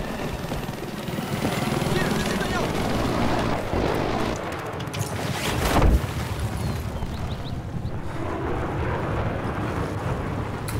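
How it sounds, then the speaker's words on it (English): Attack helicopter in Battlefield 4, a steady loud rotor drone and whine running through the whole stretch with a brief surge midway, mixed with game battle noise. "Oh, hey, you got the attack chopper."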